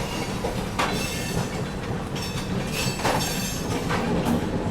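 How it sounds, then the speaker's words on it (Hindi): Tamil Nadu Express passenger train pulling out on a parallel track in India, a steady rolling rumble with clickety-clack wheel beats and faint squeals, close and continuous with no talk. "पैरेलल में तमिलनाडु डिपार्ट होती हुई"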